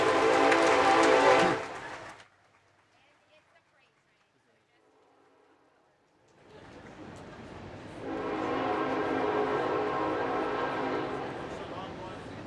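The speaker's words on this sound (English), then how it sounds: "Wait for a freight train to pass." A freight train rumbles past an outdoor commencement ceremony, a loud broadband roar that drops away briefly and then swells back in, steady and close, with a voice speaking at the start.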